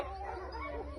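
A thin, ailing rescue dog suffering from demodicosis yips and whimpers, with a high, wavering whine rising and falling close by over a steady low background hum.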